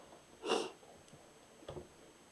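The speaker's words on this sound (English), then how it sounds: "And forgive my sniffling." A single close sniffle while wood burning an Art Nouveau inspired border, a quick breathy intake followed by a fainter second sniff a moment later, in a quiet room.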